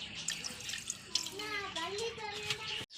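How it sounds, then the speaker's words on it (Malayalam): Water is poured into a pan of washed beef liver with turmeric and salt, a close, steady splashing stream whose tone rises as the pan fills, ending abruptly. "കുറച്ച് വെള്ളം ഒഴിക്കണം"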